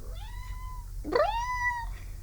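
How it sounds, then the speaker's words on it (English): A cat meows indoors, two drawn-out calls close by, the second louder and rising sharply before sliding down, over a quiet background hum. "right now I have one cat sitting in a corner being a weirdo"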